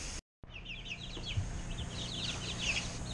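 Guinea fowl in a freshly bedded new coop give repeated high chirping and clucking calls throughout, close and fairly loud, after a brief silent gap at the start.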